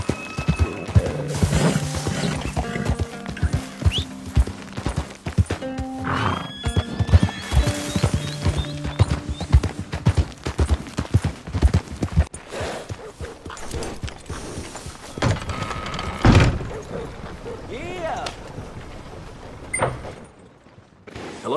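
Sooty buckskin horse in the Red Dead Redemption 2 video game, with rhythmic hoofbeats at a gallop and several loud neighs, close and clear throughout, a few thuds mixed in.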